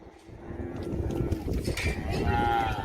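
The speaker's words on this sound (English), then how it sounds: "we're kind of sorting these cows and calves off." Cattle moo repeatedly as cows and calves are sorted on a ranch, loud and close amid a continuous herd din with shuffling and a faint cowbell-like clank.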